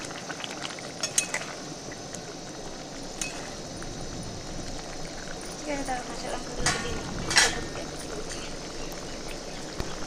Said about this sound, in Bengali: সবজির ঝোল ফুটে যাচ্ছে আমাদের খুব সুন্দর